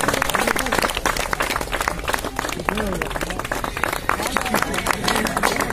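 Audience clapping at a company retirement ceremony, a steady dense patter of many hands filling the whole stretch, fairly loud and continuous with some voices mixed in.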